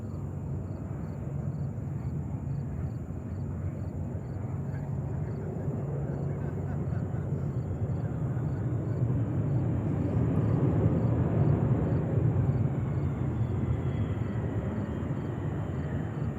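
A jet aircraft at New York's JFK airport gives a sustained engine roar that swells gradually and then eases, heard at a distance beneath a thin steady tone.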